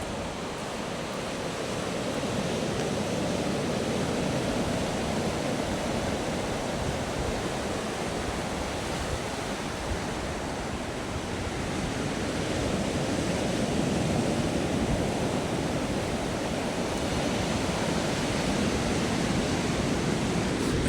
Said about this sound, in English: But have a little listen to the waves.